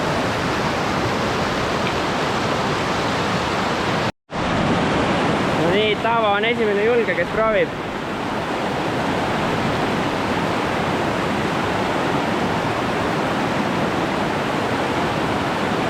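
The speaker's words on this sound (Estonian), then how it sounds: "Siit jõest on vaja üle saada." A rushing mountain river in Georgia roars loudly and continuously nearby, a dense broadband wash with a brief dropout; a voice speaks over the torrent for a moment.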